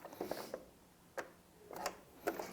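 Domestic sewing machine worked slowly by hand with the handwheel, needle kept lowered, giving a few quiet, spaced mechanical clicks and ratcheting ticks in an otherwise hushed setting.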